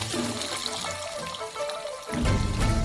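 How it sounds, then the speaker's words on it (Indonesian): Water pours into a wok of fried black beans and chili, a soft trickle giving way to a louder, fuller splashing rush near the end. "Dan isi dengan air."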